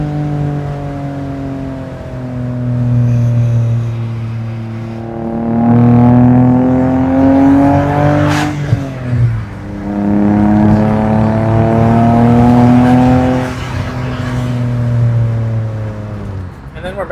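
A roadster's engine drones steadily while driving at around 2,700 RPM, its pitch rising and falling through gear changes with a brief break near the middle, loud and close, with voices talking over it.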